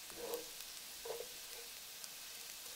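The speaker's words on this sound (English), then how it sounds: "Once the oil is heated, add the garlic and cook it until golden." Garlic fries in heated oil in a shallow casserole over low heat, a steady soft broadband sizzle with faint clinks from stirring, heard alone and without talk.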